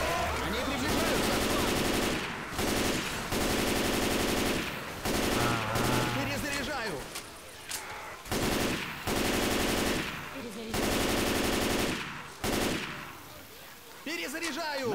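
Rapid automatic rifle fire in the video game Left 4 Dead 2 comes in loud repeated bursts separated by short pauses, with other game sounds and occasional voices mixed in.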